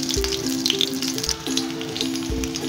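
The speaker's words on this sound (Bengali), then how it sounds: "আমি সর্ষের তেলের মধ্যে বেগুনগুলি হালকা ফ্রাই করে নিচ্ছি" Brinjal pieces shallow-frying in mustard oil, giving a light bubbling sizzle with scattered pops, close by, alongside a few low knocks and a faint repeating hum, with no voices.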